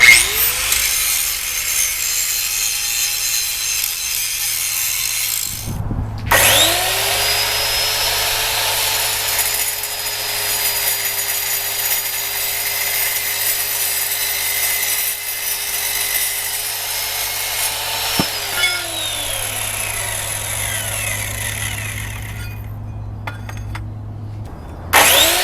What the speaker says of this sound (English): My grinder still works, so I've got to clean up this edge a little bit.